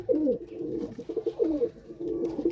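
A Pakistani pigeon, an aliwala breed, coos close by in repeated warbling phrases, with no talking over it.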